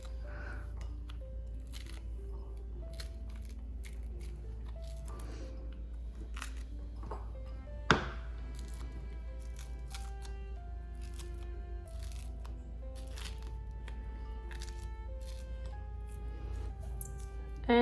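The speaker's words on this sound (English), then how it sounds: "I'm going to start off by peeling my mandarins." Mandarins peeled by hand, with soft intermittent tearing and crackling of rind, close and quiet, in a series of small irregular snaps over a low steady hum.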